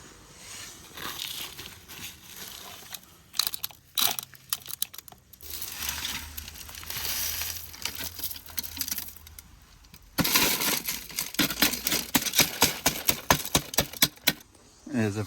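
A heavy pool skimmer basket loaded with grit, small stones and leaves is handled and shaken, giving loud gritty rattling, scraping and crunching in irregular bursts.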